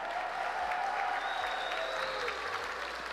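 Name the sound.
audience cheering and applauding at esports championship arena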